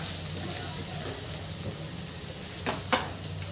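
Turmeric, ginger and garlic fry in a pan, giving a steady soft sizzle throughout with a couple of brief scraping stirs near the end, fairly quiet and close.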